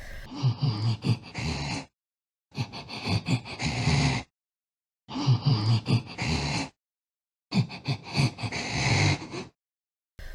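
The Regenerator enemy from a horror video game breathing, four long bursts of harsh, wheezing, rasping inhales and exhales separated by silent gaps, close and loud.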